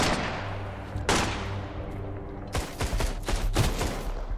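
In a Sunkenland battle, bandits fire a Benelli shotgun in bursts: a sharp blast, then a rapid volley of heavy booming shots, loud and close, over a low steady game hum.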